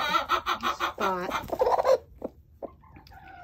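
A broody hen clucks and grumbles up close in a rapid run of throaty, rising calls, then gives a few sparse, softer clucks as the sound trails off, with a brief spoken word nearby.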